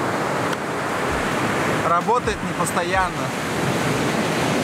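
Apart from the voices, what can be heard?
ocean surf on the shore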